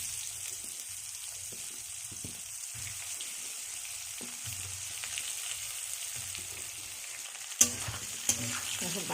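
Mango pieces sizzle steadily in hot oil with whole chillies, a constant fizzing hiss with soft lower stirring sounds and a few sharper pops near the end.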